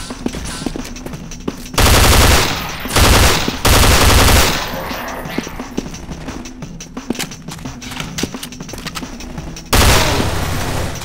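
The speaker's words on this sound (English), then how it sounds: "Someone's shooting." Loud automatic gunfire in the sci-fi Counter-Strike: Source map, several bursts of rapid shots up close, separated by quieter stretches of distant shooting and game noise.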